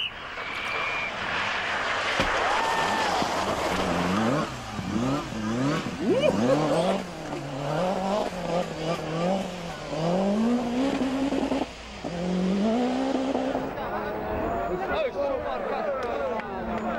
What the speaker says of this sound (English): you hear that car? It sound like a machine gun.